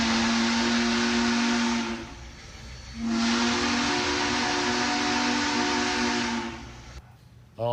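Union Pacific Big Boy, the world's largest operating steam locomotive, sounds its steam whistle in two long, loud, sustained blasts separated by a brief pause, followed by a short hissing tail.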